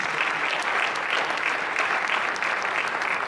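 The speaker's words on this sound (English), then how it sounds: "Can we all clap hands for them, please?" Audience at a church concert claps hands in a steady, even burst of applause, moderately loud and continuous throughout.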